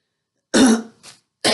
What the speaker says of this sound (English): I haven't gotten a cough over with yet